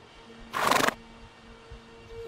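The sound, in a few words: horse neighing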